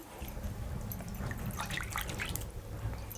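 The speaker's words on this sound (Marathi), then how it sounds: "हे पाण्यामध्ये घालून स्वच्छ धुवून घ्यायचं" Water sloshes and drips as potatoes are rinsed and rubbed by hand in a basin, with irregular splashes building midway, no speech.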